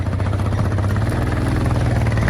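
A motorcycle engine drones steadily at a constant pitch, close and loud throughout, with no voices.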